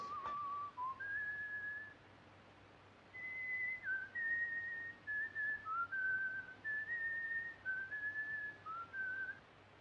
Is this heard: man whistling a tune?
yes